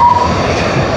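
A train pulling away from Victory Station in Dallas, a steady loud rumble of rail cars with a brief high wheel squeal near the start and no voices.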